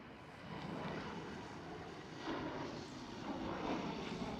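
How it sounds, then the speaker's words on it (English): A KLM Cityhopper Embraer E195 jet at Amsterdam Schiphol produces a broad, steady engine rumble at moderate distance, fairly loud and unbroken, with no talking. "Next KLM Cityhopper E195."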